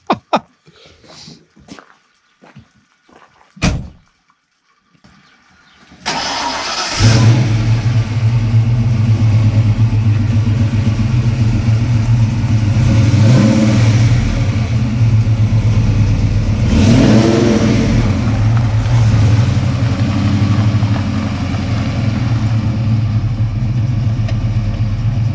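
A 1990 Ford Mustang GT cranks after a few sparse clicks and knocks, then fires into a loud, steady V8 idle with a couple of swelling revs, close by and continuing alone for nearly twenty seconds.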